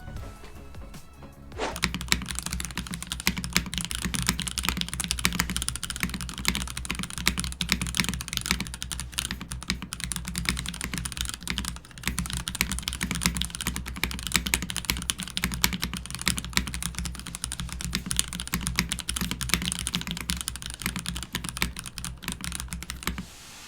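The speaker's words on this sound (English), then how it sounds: "that's pretty much everything about the keyboard, so with that, let's get into the sound test" Continuous clacky typing on a Melgeek Mojo68 mechanical keyboard, dense rapid keystrokes close up with no talking, running steadily throughout.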